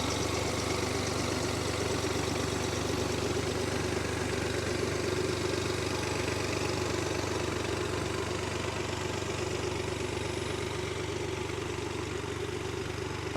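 A BMW 2 Series Active Tourer 225xe hybrid engine idles steadily up close, running smoothly without knocking, any break or change in pitch.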